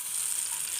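Batter is poured into hot coconut oil in a pan and sizzles with a bright, even hiss, close and continuous, with no talk over it.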